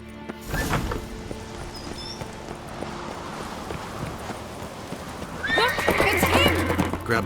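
Horse hooves clip-clop at a gallop in The Witcher 3, with a sharp whinny near the start and louder neighing near the end as voices talk over the action.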